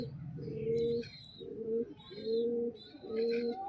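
Domestic pigeons kept for raising chicks coo close by in a repeated rhythmic series of soft, rolling throaty calls, about four phrases in quick succession with no talk.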